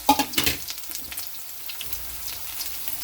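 Fresh ginger dropped into hot cooking oil, a strong sizzle bursting at first and then settling into a steady, softer frying crackle, close up with no talking.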